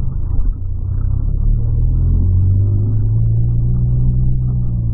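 Inside a 2008 Volkswagen Polo Sedan on the move, a steady, loud, low road and engine rumble fills the cabin without a break.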